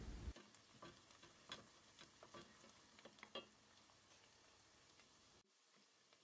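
Onions and garlic sizzle quietly in a pan for potato soup while a utensil scrapes and stirs in short irregular strokes, fairly faint with no voices.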